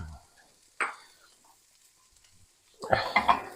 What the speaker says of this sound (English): Now it smells like a hibachi joint in here with all of the mushrooms and onions cooking with a little bit of oil.